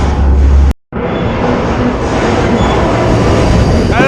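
A freight train rolls along between Jefferson City and St. Louis, a loud close rumble of cars and wheels after a brief dropout, with a faint squeal near the end.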